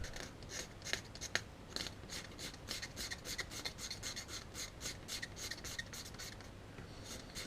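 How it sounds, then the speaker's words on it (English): Little razor blade scraper drawn repeatedly across a hand-cut wood inlay, a steady series of short, dry rasping strokes at close range, quiet and rhythmic with no talking. "It's going to be awesome once we scrape it. Little razor blade scraper."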